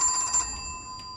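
A telephone rings in the horror video game Unshattered Destination, a sharp bright electronic bell that sounds loudly at the start and then decays, with a faint second ring near the end.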